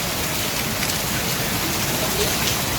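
Rain pours down in a steady, loud hiss close by, an even wash of noise with no clear voices.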